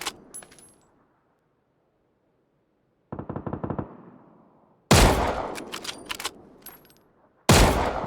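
Gunfire in the battle royale game PUBG, played on the Erangel map: a short burst of automatic rifle shots near the middle, then two loud, close volleys of rapid fire separated by a brief pause.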